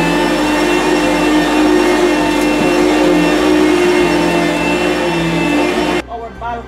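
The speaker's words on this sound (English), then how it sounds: "And then you vacuum." A vacuum cleaner runs loud and steady on carpet with a constant motor whine, then cuts off abruptly near the end.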